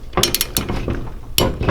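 A torque wrench ratchets in quick, close clicking bursts while head bolts are tightened on a Harbor Freight 301cc engine, with short pauses between the runs of clicks.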